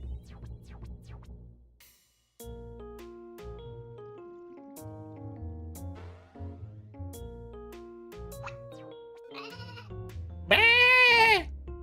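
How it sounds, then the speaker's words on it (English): Goat bleating in the video game Tamagotchi Standoff, a loud quavering cry near the end of the clip, heard over busy melodic game music with chiming tones throughout. "Poor goat."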